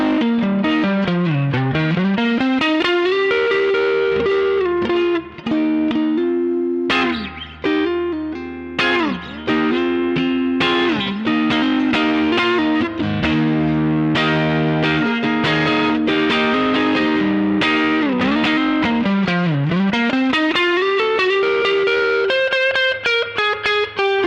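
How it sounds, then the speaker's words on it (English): American Stratocaster on the neck pickup, fed through a compressor into the clean channel of a Cox Studio Tone 20 amp with the bright switch on, playing a loud continuous run of picked notes and chords that sound slightly broken up. "So here is the neck pickup sound"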